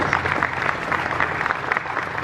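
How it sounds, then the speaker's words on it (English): An audience gives a round of applause at an executive team announcement, a dense, even patter of clapping hands held steady for a couple of seconds. "So please, a big round of applause for Darla"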